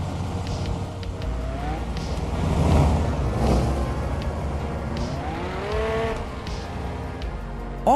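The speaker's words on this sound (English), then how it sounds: "This simulation racer features hyper-detailed off-road trucks, massive open environments, and some of the best real-time mud deformation physics on mobile." Off-road truck engine from the mobile simulation racing game Off-Road League Online, a steady mid-loud motor drone with rising revs around the middle and again near the end, no talk.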